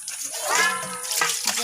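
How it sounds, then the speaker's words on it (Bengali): Dishes are washed under running water. A continuous splashing rush carries through the short stretch, with faint voices in the background. "হয়ে যাচ্ছে আমার থালা বাসন ধোয়া"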